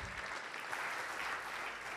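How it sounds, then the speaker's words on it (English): Applause from the audience at a U.S. Conference of Mayors annual luncheon, a dense, even crowd clapping that continues without a break, sounding slightly distant in a large room. "Let's give our president a big round of applause."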